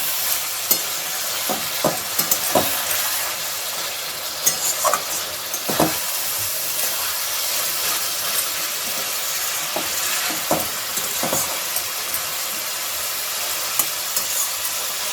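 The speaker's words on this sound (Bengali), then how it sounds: "কাঁচা লঙ্কাগুলো আমি একটু খুন্তি দিয়ে ঘেটে দিচ্ছি যাতে লঙ্কার ঝালটা বেরোয়।" A spatula works through tengra fish curry with green chillies as it fries, giving a constant dense sizzle with irregular scraping and tapping strokes against the pan, close and fairly loud, no talking.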